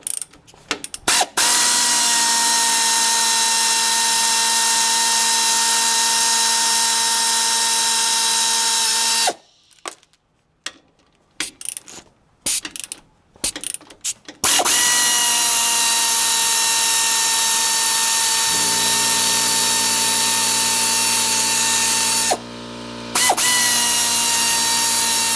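Pneumatic impact wrench breaking loose tight shock absorber bolts on a 1998 Chevy S10 Blazer, loud sustained whirring and hammering bursts with a choppy stretch of short rattling hits in between, close up.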